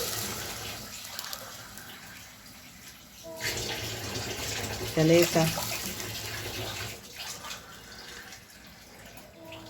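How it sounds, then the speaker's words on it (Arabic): Water poured from cups into a pot for cooking rice, coming in several short splashing bursts in the middle, while someone talks over it. "ابدا احط الميه بتاعتي"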